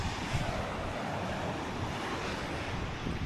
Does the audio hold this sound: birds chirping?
no